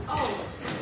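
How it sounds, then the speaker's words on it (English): Glasses clink briefly at a wedding toast for the Greys and the Goldrings, a quick bright chime within a noisy room full of guests' chatter. "We'd now like to raise a glass to the Greys and the Goldrings"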